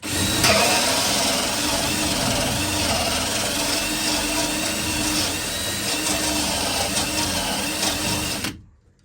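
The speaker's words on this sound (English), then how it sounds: "drill driver here for a hole saw, and we'll get at it." Drill driver with a hole saw cutting up into plywood overhead in a custom van hightop build, a loud continuous whirring grind running steadily for about eight seconds before stopping abruptly.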